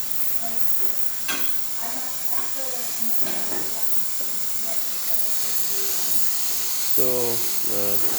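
Steam hissing from the wand of a Breville Barista Express espresso machine after a full tune-up, a steady broad hiss under a speaking voice with harmonic tones near the end.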